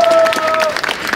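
Audience applause at a Spanish-language freestyle rap battle in the Liga Inmortal octavos, a loud dense crowd clapping steadily through the moment with a sustained tone ringing over it.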